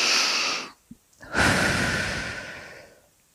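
A deep, breathy exhale during a guided sophrology relaxation session fades out, followed by a short pause with a small catch of breath, then a long, slow outbreath that gradually trails away.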